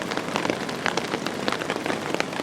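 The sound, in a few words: rain falling on a tarp while backpacking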